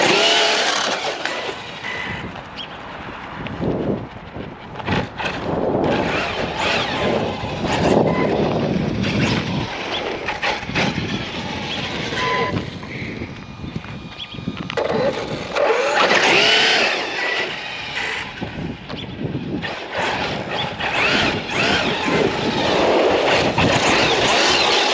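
A Redcat Machete RC truck with high-speed gearing runs its electric motor, revving and accelerating in surging bursts, loud and close, with wheel and ground noise throughout.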